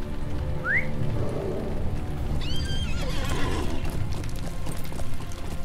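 Horse in a video game neighs in a rising whinny amid rain and clip-clop hooves, mid-distance and clear over steady ambient noise.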